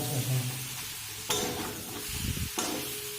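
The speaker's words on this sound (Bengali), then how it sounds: "নুডলসের সঙ্গে মশলা খুব ভালোভাবে মিশিয়ে নেব।" A spoon stirs boiled Yippee noodles with spices in a pan, making soft scraping and a light sizzle. Two sharp metallic clinks break in at intervals, and the sound is close and fairly quiet.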